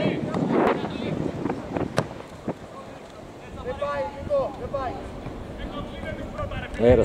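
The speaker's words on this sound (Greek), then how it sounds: "Αέρας, πολύς αέρας. Τον ακούτε και στην κάμερα." Strong wind gusts across the microphone on a football pitch, giving loud rumbling buffets that come and go, with distant voices and calls under the wind.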